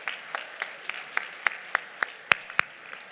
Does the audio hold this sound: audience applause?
yes